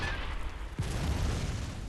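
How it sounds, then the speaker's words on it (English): A cannon in the video game Bloodborne fires once with a single sharp boom, followed by a low rumbling tail over a steady game background. "I love shooting the cannon."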